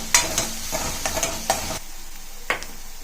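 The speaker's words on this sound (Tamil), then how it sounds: "இப்போ கடாயை வச்சு எண்ணெய் ஊற்றிட்டு இந்த வெங்காயத்தை வதக்கிடுங்க ஃப்ரெண்ட்ஸ்" Onions sautéing in oil in a kadai, close and fairly loud: a frying hiss under several sharp spatula stirs and scrapes against the pan, the sizzle thinning toward the end.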